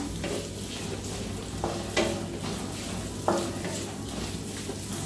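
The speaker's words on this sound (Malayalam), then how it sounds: "നന്നായിട്ടൊന്ന് ഇളക്കിയെടുക്കാം." A spoon works through vegetable pieces for Kerala aviyal in a large pan, giving soft scraping strokes over a gentle sizzle, with a few sharper clinks against the pan at intervals.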